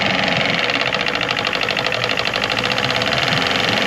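Two boat outboard engines, one 4-stroke and one 2-stroke, idle together on a Haines 170 Tri-Hunter, giving a loud, steady, close-up mechanical drone with a fast, buzzy pulse throughout.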